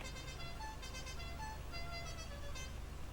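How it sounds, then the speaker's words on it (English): A truck horn sounds in Farming Simulator 22, a 1960s-era farm truck blaring a steady, continuous tone over a low engine rumble. "This is what the horn sounds like on this truck."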